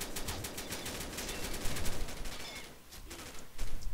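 Rapid bursts of P90TR submachine gun fire in the Combat Arms shooter, dense and loud, with brief gaps between strings of shots and no talking.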